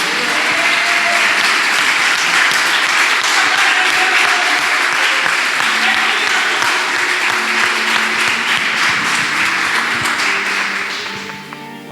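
A church congregation applauds steadily at the close of a worship service, a dense wash of many hands clapping together, loud and sustained, tapering off at the very end.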